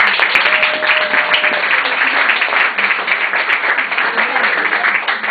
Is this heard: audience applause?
yes